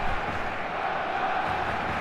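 A packed stadium crowd roars in the football game eFootball 2026, a dense, steady wall of cheering and chanting that stays loud and even throughout, with no clear voices on top.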